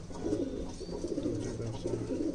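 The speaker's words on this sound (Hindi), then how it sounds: "तो काफ़ी शानदार कबूतर हैं" Continuous soft cooing of Madrasi pigeons, low and throaty, repeating in overlapping waves with a steady murmur throughout.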